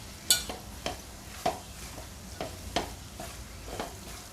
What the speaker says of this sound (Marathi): आपण हे छान परतून घेऊया